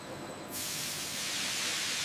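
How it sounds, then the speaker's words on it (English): A factory steam tunnel for instant noodle dough bursts into a loud, steady high-pressure steam hiss after a quieter hum, the roar holding constant to the end. "For 2 minutes, the noodles are blasted with high-pressure steam."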